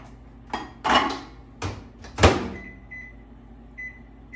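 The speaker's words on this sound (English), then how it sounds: "while that's in the microwave" A microwave oven heating beans: its door clunks shut and a few handling knocks follow, then short electronic beeps sound at intervals, close by.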